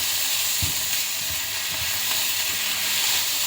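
Ground beef sizzles and browns in a pan for spaghetti bolognese, a steady broadband frying hiss with a few soft low thumps of stirring, close and continuous with no talking.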